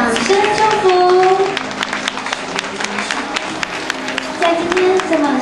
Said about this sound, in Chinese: 让我们掌声祝福。